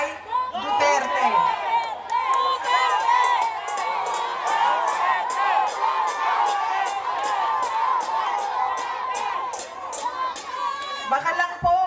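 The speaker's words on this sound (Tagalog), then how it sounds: "Ang sigaw ng mga tao ay Duterte." A large political rally crowd in Manila shouts and cheers continuously, a loud, packed roar of many voices with whoops and rhythmic chanting rising throughout.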